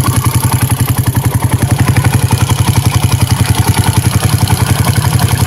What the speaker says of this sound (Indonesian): Sekali engkol langsung nyala ini motor.